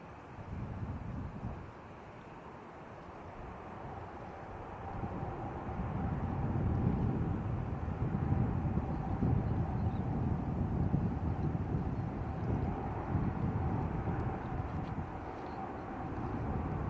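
Air France Airbus A380-861 landing at San Francisco International, a steady broadband jet roar that swells in the middle and holds, heard from a distance with some wind noise and no talk.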